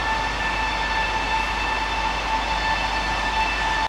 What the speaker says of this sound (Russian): По перегону длиной 24 километра 3 часа будет курсировать литерный состав из 2 локомотивов и спецвагона.